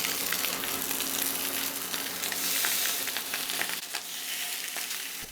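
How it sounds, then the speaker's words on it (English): A meat fat cap laid into a cast iron skillet preheated on medium heat gives off a steady, close, bright sizzle and crackle with no talking. "So I'm going to first put these fat cap down onto the pan."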